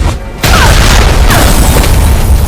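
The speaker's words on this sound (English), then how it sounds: "The explosion sent Claire flying and slammed her back into a car" A loud, booming explosion in the Resident Evil 2 remake erupts and then rolls into a sustained roar of crackling debris and rumble, dense and close.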